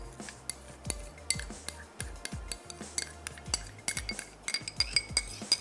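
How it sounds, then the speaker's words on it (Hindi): Metal spoon clinking and scraping against a bowl while ketchup, chilli garlic sauce, soy sauce and yogurt are mixed together, a steady run of small sharp clinks with no talking. "तो मैं मिक्स कर लेती हूँ इसको। केचप, चिली गार्लिक सॉस और आप इसमें ऐड कर देंगे सोया सॉस और दही।"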